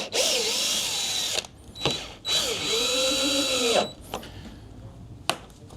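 A power drill drives self-tapping screws into the body of a Range Rover Vogue, loud whirring bursts that wind up and down, interrupted by short pauses and a few clicks between runs.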